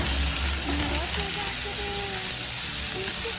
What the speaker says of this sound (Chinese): 洋葱有点焦黄，我们下土豆